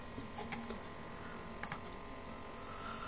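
Keystrokes on a computer keyboard, a short burst of quick clicky taps spread over a few seconds, fairly faint against a steady background hiss.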